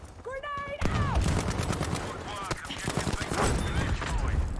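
Loud rapid gunfire in the video game Battlefield V, dense overlapping shots and bursts crackling continuously, with a voice talking underneath.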